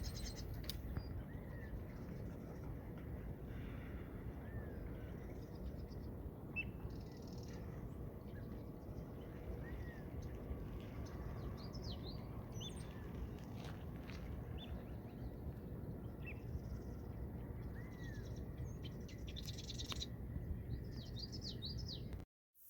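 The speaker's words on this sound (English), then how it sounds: "You can hear the common yellowthroat and marsh wrens singing in the background." Common yellowthroats and marsh wrens sing and chirp intermittently at a distance over a steady outdoor hiss in California, with short trilling phrases scattered throughout.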